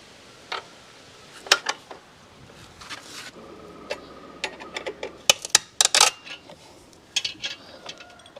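Bolts being loosened from a KTM Duke 390 exhaust with a 12 mm spanner, sharp metallic clicks and ratchety ticks in irregular bursts, close by against a quiet background.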